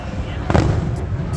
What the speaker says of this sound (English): A firework exploded like on the street.